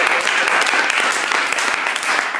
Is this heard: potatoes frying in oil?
no